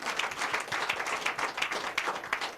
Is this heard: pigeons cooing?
no